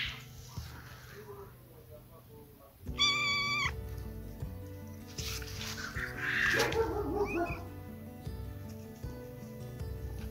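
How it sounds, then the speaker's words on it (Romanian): Kittens in a garden with bark mulch, sand and geraniums meow in short, close, repeated calls over a background of soft rustling and ambient noise. "Aici sunt pisoii mei."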